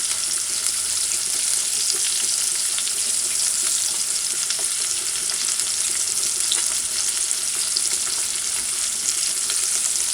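Ackee and salt fish sautéing in a pan, a steady, loud, even sizzle that holds without pause for the whole stretch, with no talking over it.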